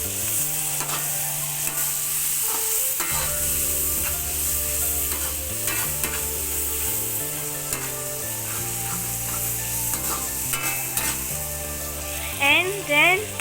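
Turmeric powder is stirred into a frying fish curry, steady loud sizzling continuing throughout with scraping stir strokes near the end.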